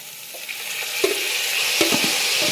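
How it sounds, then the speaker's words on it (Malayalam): Chopped pumpkin leaves stirred into a spice paste frying in oil, giving a continuous close sizzle broken by a few soft scraping stirs of the spoon; no speech. "ഇതിലേക്ക് നമ്മുടെ അരിഞ്ഞു വെച്ച മത്തനയില ഇട്ട് കൊടുക്കുക."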